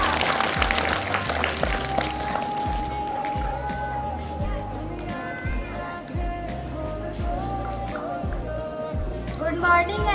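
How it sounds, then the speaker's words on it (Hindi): Loud applause rises from a school assembly crowd at an Independence Day program, welcoming a class 8 girl to the stage, continuous clapping with children's voices and chatter mixed in. "जोरदार तालियों से स्वागत कीजिए सुमैया का।"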